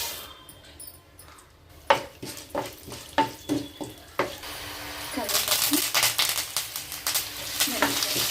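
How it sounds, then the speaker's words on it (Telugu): Tempering spices and dried chillies dropped into hot oil for a ridge gourd chutney, a run of sharp separate clinks and taps that gives way to a loud, spreading crackle and spatter of sizzling close by. "ఆయిల్ హీట్ ఎక్కిన తర్వాత ఇవి వేసుకుందాం పోపులన్నీ."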